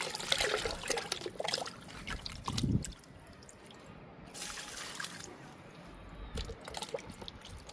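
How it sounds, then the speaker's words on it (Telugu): Liquid fertilizer poured from a container onto the soil around a potted sapota plant, with uneven trickling and splashing close by and a lull partway through before the pouring resumes. "రమ్ముల్లో ఉన్న మొక్కలకి ఎక్కువ లిక్విడ్ ఇస్తున్నాను."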